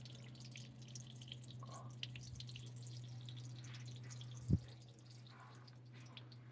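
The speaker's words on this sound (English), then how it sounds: "As you can see, the water leaking." Rainwater drips and leaks from a dark grey Erommy 10x20 pergola with pull-down shades, a steady patter of water under a constant low hum, with one louder drop standing out partway through.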